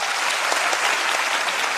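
A crowd of young listeners at a comedy talk clapping loudly and continuously, a thick even wash of many hands with no voices over it.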